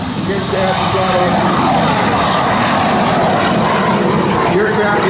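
An L-39 Albatros jet at the 2011 Culpeper Air Fest, passing left to right at about 250 knots, adds throttle: a loud, steady engine roar swelling slightly, with a commentator talking over it throughout.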